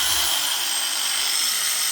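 An angle grinder that runs weakly on one setting is switched on and whines steadily and loudly, a bright high-pitched motor tone held for the whole stretch with no voices.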